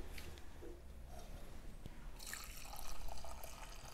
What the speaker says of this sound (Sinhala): උණු වතුර ටිකක් දාලා අපි ඒක මේකට දාගමු